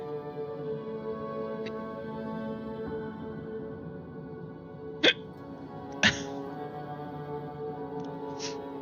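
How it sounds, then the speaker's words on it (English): A man hiccups twice in close succession during a gaming session, two sharp, loud, brief gulps standing out above steady background game music, with a fainter hiccup-like catch near the end. "I got the hiccups"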